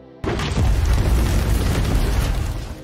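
A single loud, deep grenade explosion bursts suddenly after a brief quiet, its heavy rumble sustaining and slowly fading over a few seconds.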